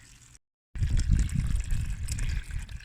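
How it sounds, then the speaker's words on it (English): Rainwater poured from a container into a bucket packed with nettles, a dense, close splashing gush that starts after a brief silent gap and continues steadily to the end. "So you just want to fill the bucket up with water so all the nettles are submerged."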